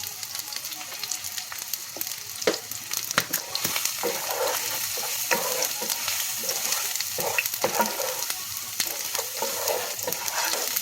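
Onions fry in a pan with black pepper, sizzling continuously with scattered crackles and occasional scraping from stirring, close and moderately quiet, no voices.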